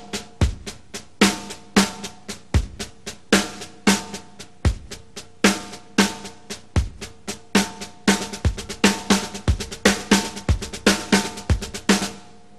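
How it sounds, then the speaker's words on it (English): A drummer plays a drum-kit groove with one accent displaced onto the bass drum, ghosted notes filling the gaps; a busy, even stream of crisp hits with deep kick thumps recurring, close and loud, no voices. "I'll displace one of my accents with the bass drum"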